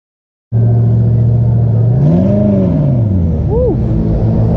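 A Honda Civic Type R engine starts up abruptly, then revs up and back down in a couple of swells, loud and close, with a voice talking over it.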